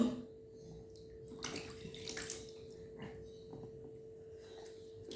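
A baby being bathed, with water splashing and sloshing in a tub in soft bursts, fairly faint and close, with a steady hum underneath.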